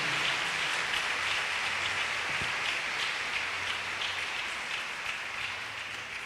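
A church congregation at a Spanish-language inner healing gathering applauds, a steady, even wash of clapping that fills the room and sounds close to rain, slowly easing toward the end.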